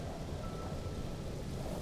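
Thunderstorm with acid rain in the video game No Man's Sky, a dense low rumble and steady rainfall hiss filling the background at a fairly soft, even level, without speech.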